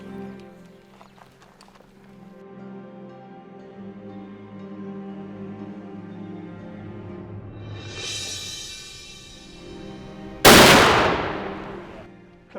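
A single loud, sharp hunting rifle shot fired at a klipspringer in the Zambian bush, ringing out after a stretch of low hoofbeat-like clatter and a rising whoosh, with a brief decaying echo.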